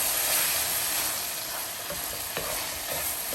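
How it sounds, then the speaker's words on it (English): Mushroom and bacon pieces frying in a pan, with a steady close sizzle and a few soft scraping stirs. "let the mushroom and the bacon pieces cook a little bit"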